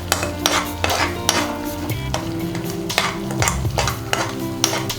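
Tamarind rice mixture stirred in a pan over a low flame, steady scraping and soft rhythmic knocks of a spoon against the pan, close and fairly loud with no talk.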